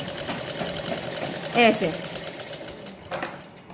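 Sewing machine stitching the tucks of a blouse runs in a steady, fast mechanical rhythm close by, with someone talking over it throughout.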